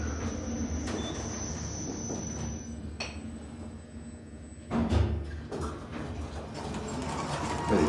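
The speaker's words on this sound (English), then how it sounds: "This probably served as the service/freight elevator." An old Dover freight elevator descends with a steady low rumble and hum, a sustained high whine over it, and a few sharp clanks and knocks along the way.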